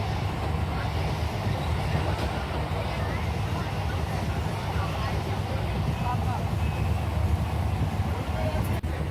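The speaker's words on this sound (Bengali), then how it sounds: "লোকাল ট্রেনে বসে আছি" Inside a moving local commuter train, a heavy continuous low rumble with faint rattling carries on steadily from start to finish, loud and close around the listener.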